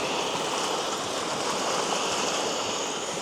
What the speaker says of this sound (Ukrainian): вже чайник кипить